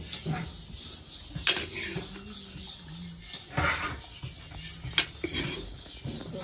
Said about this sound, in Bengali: ঘি ছাঁকনি দেওয়া হচ্ছে